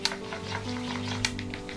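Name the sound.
stirring batter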